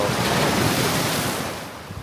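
Ocean surf rolling and splashing onto a shore at a landscape photography spot, a loud steady wash of water with wind buffeting the microphone, fading slightly toward the end; no one speaks.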